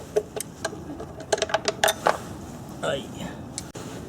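A wrench working a 10mm bolt on an Acura engine during a timing belt inspection, heard as a run of close, quick metallic ratchet clicks in short bursts with a brief pause between them.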